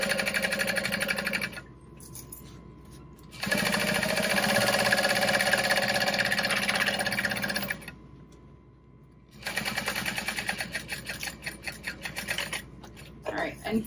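A sewing machine stitches a seam on a Fortuna backpack, running in three close bursts of rapid mechanical whirring separated by short pauses.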